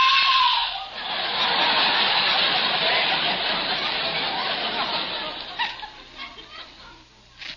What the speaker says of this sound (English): Suddenly I hear a woman scream.